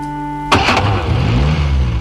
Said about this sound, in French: Je vais voir si ça démarre.